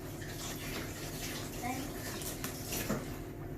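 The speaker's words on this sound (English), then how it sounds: "I'll just rinse this off for you, Tristian." Tap water runs into a kitchen sink as already-scraped vegetables are rinsed for a budget toad in the hole, a steady wash with faint clinks, under quiet voices.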